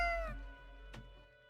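A cat in the game Death and Taxes gives a bright rising meow, then a short chirp a moment later, close and clear against quiet.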